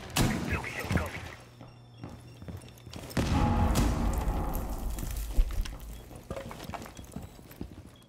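A sudden loud low boom bursts in midway and rumbles on for several seconds, amid scattered clatter and game noise in Rainbow Six Siege.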